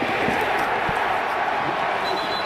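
Stadium crowd noise at an Oklahoma versus West Virginia college football game, a steady loud roar filling the air throughout with a commentator's voice faintly underneath.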